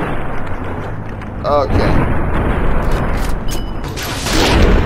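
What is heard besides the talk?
gunshots fired in the video game Fallout: New Vegas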